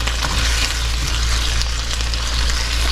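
French onion chicken sizzling loudly in a pan on medium heat, a dense, steady frying hiss that stays close and constant throughout, with no talk.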